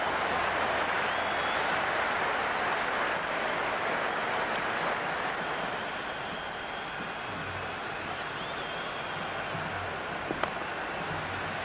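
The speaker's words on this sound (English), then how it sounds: "It's evident and ever so audible that the crowd is at near bursting point at today's play." Dense, continuous roar of a cheering stadium crowd during a Pakistan vs India match in the Cricket 26 video game, loud and sustained throughout, easing slightly midway.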